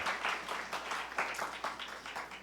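Church congregation at a Sunday service clapping together for a newborn, a steady, fairly faint patter of many hands throughout with no talking.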